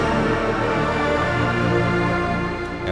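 A sustained synthesizer pad from the factory pad presets of Native Instruments Massive, a dense, steady wash of held tones that stays loud and even throughout with no talking.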